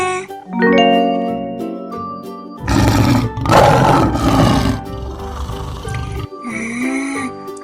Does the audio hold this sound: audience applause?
no